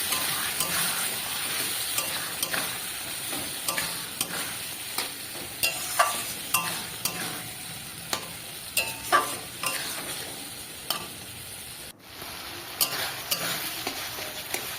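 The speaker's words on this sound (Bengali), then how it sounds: "এবার মশলাটাকে একটু ভালো করে কষিয়ে নেব" Spice paste with chopped tomato sizzles in a pan while a spoon scrapes and stirs it, giving regular sharp scraping strokes over a continuous frying hiss.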